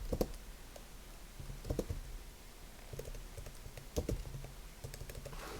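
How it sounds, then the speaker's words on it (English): Fingers typing on a computer keyboard in irregular bursts of quick clicks with short pauses between them, close and moderately quiet, without speech. "I'm just gonna type"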